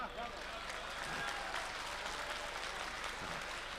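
Soft, fairly distant clapping from an audience at a poetry recital and mushaira in Dubai, a thin continuous patter of hands with a faint murmur of the crowd underneath.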